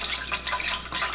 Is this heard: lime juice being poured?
yes